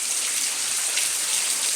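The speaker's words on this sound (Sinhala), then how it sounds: "යමු යාළුවනේ වැස්ස පෙන්නන්න" Steady rain pours down onto a concrete slab, a dense, even hiss of countless drops with no pauses, close and fairly loud with no voices.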